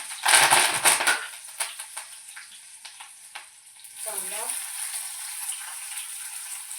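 Green chillies and curry leaves crackle and sizzle in hot oil, loudest in the opening second, then easing to a steady, moderately close fry with scattered pops and a short stirring scrape midway.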